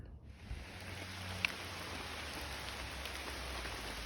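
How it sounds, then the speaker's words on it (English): Heavy rain pours down on a forest trail in Virginia, a dense, even hiss of drops on leaves and ground filling the scene, with a single faint tap standing out briefly. "Well, it started pouring down rain."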